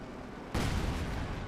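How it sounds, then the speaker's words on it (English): A 105mm howitzer shell strikes in Company of Heroes 2 with one sudden, loud, broad blast. The rumbling roar carries on through the rest of the moment with no voices. "they're taking hits from the 105mm howitzer"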